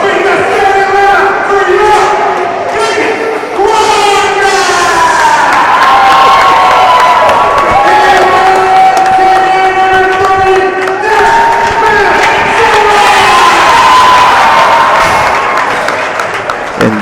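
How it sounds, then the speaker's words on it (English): A big crowd at a high school hockey senior night in a packed arena, loud sustained cheering and shouting that fills the whole stretch, with tonal swells riding through it. "Jeff, we got a big crowd here tonight for senior night"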